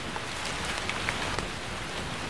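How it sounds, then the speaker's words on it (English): Rain falling in Africa, a soft, even hiss of drops with a few faint patters, heard alone at low level and without interruption. "The African rain provides an abundant food and water supply."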